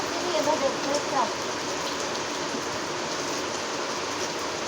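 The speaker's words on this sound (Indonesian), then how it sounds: "Sambil hujan-hujanan." Rain falls steadily outdoors while a motorbike is washed in it, a dense, even hiss of drops filling the scene, with a brief voice near the start.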